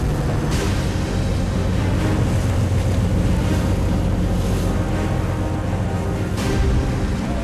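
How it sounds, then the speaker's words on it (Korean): Heavy stormy seas surge and crash around a fishing boat at sea in winter, with roaring wind buffeting the microphone in a loud, continuous wash and occasional louder splashes. "갑자기 파도가 거세다."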